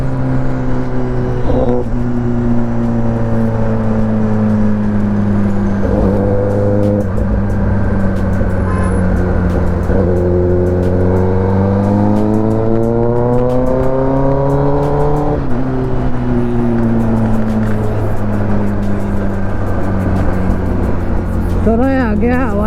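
Kawasaki ZX10R sport bike ridden with a loud aftermarket exhaust, the engine droning continuously and climbing in pitch through gears, then dropping back, close and loud throughout.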